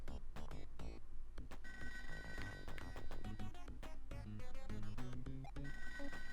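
A telephone rings in a Sega Mega Drive video game, its repeated electronic bell tones sitting over busy, continuous game music and sound effects throughout.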